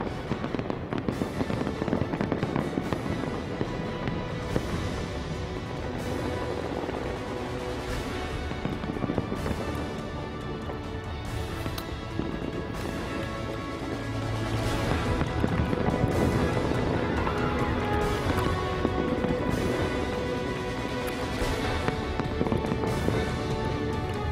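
A New Year fireworks display over Dubai's Burj Khalifa booms and crackles continuously, dense overlapping bursts rolling on without pause at a steady loud level with distant crowd ambience.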